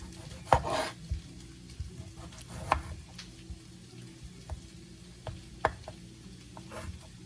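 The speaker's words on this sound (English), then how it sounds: "we're gonna cut our tomato" Knife chopping through a tomato on a cutting board: several sharp, distinct cuts spaced a second or two apart, close and moderately loud, over low kitchen background hum.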